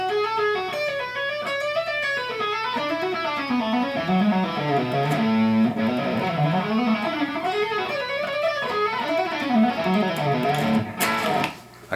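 An electric guitar plays a continuous legato run, with smooth connected notes climbing and falling across the fretboard in rolling, wave-like phrases. It is played solo at close range, keeps an even loudness and cuts off abruptly at the end.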